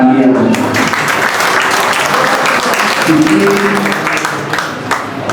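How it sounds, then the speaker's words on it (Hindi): An audience at an Independence Day celebration applauds award recipients with loud, sustained clapping across the hall, and voices speak over it as the applause continues. "उनके लिए एक बार जोरदार तालियां बजाएं।"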